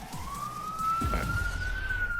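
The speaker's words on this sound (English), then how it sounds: "Yeah, more sirens." A steady wailing police siren rises slowly in pitch, with traffic rumble underneath.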